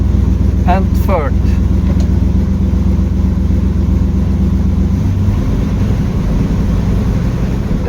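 A Turbo Trans Am engine drones steadily and loudly at close range while its transmission shifts, the engine note dropping and changing character partway through as the gear changes.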